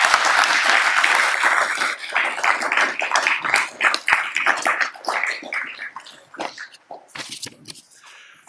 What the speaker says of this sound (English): let's have a round of applause for all the applicants